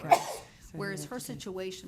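A single short sneeze bursts out at a board meeting, followed by people talking in a room.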